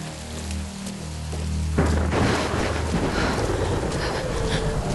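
Stormy weather in the Tomb Raider video game: a steady wash of rain and wind that swells into a loud, dense roar partway through, with no talking over it.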